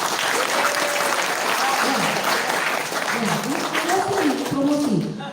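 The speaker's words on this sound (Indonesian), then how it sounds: "Tepuk tangan dong buat saya." An audience at a leadership training session claps steadily and fairly loudly throughout, while a speaker's voice talks over the applause.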